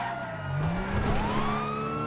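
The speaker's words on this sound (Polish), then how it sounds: "Nie wiem, czy trochę nie za dużo tych radiowozów tutaj" Police car sirens wail in GTA V with the LSPDFR mod, several rising and falling tones overlapping over a rumbling engine and road noise, loud and close.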